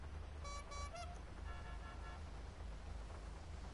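A car horn in the video game GTA V toots in a few short honks during a PS4 racing session, faint against a low engine rumble.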